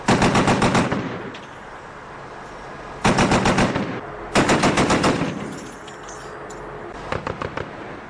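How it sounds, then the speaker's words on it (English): American gunners fire at suspected Taliban positions at night near a base by the Pakistan border: loud bursts of rapid automatic gunfire in several strings, with echoing gaps between bursts and a shorter, fainter burst at the end. "American gunners laid into suspected Taliban positions."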